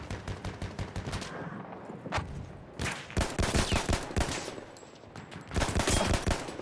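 Gunfire from a weapon in the video game Battlefield 1, loud close shots in short repeated bursts with brief pauses between volleys, the sound alone without talk.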